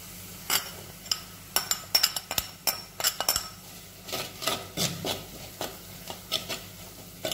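A metal spoon stirs chili and turmeric powder into rambutan pickle in a pan, giving brisk, irregular clinks and scrapes close by, with no talking.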